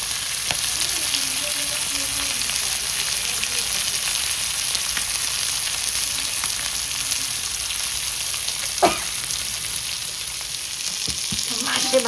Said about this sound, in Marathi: मासे भाजले, काढून घेऊया